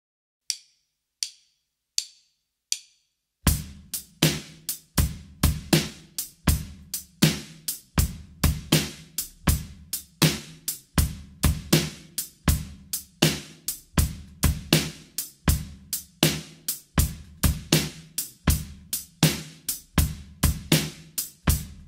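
A hip hop drum kit groove in the Dilla feel with crisp, evenly spaced hits and a lilting eighth-note feel between straight and swung, opening with a few sparse clicks before the full pattern.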